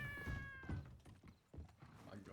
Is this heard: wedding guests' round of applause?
no